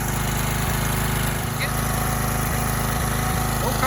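A small generator engine running on biogas made from food and animal waste, warmed up and idling steadily with a continuous low putter close by, with a few faint thumps partway through.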